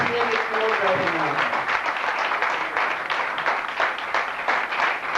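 Audience at an awards ceremony in New Delhi applauds steadily and loudly throughout, a dense wash of clapping with a brief voice near the start.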